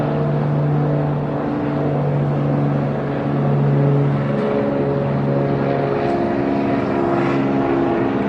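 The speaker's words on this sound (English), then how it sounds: "There's a plane just zipping along." A propeller plane flies past over the harbour in Honolulu, a steady droning engine hum that holds throughout, swelling slightly midway, heard alone without talk.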